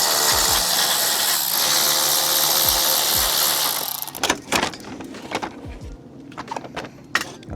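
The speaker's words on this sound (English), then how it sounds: "I'm gonna go ahead and start removing the bolts for the bottom brace" Power tool ratcheting on bolts while removing the bottom brace under the bumper of a BMW G20 330i, a steady whirring run for about four seconds followed by short metallic clicks and clanks, loud and close.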